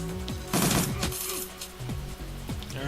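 Gunfire in Shadowrun Returns, a couple of sharp shots cracking over steady game music, the first burst loudest, a second crack following close behind, the soundtrack continuing underneath.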